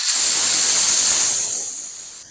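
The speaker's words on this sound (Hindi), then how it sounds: "कुकर का जो प्रेशर है वो हम सारा निकाल देंगे।" A loud, continuous hiss of steam jets from a pressure cooker being depressurized after cooking beef karahi, steady throughout and easing slightly toward the end.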